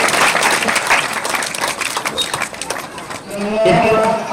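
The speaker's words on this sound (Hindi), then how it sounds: "भैया आप लोग ताली बजाइए, आप लोग ताली से स्वागत करें।" Audience applause welcoming a priest at a yagya ceremony in Bhalapur, a dense steady clatter of many hands under a voice, ending on a brief louder swell.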